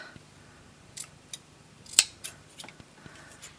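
Quiet snips of scissors cutting, a handful of sharp isolated clicks spaced irregularly, one crisper and louder than the rest.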